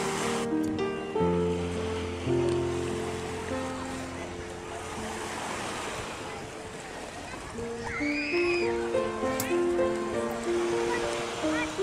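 Calm waves wash onto a white-sand beach at Gaira Bay near El Rodadero, Santa Marta, Colombia, a steady surf hiss beneath music.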